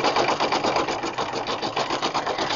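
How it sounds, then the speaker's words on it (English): A Brother PE 770 embroidery machine runs a placement tack-down stitch, giving a steady, close, rapid mechanical chatter with no voices. "the first thing it's going to do is it's going to do the placement stitch or the tack down stitch."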